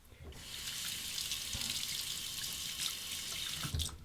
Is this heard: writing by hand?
no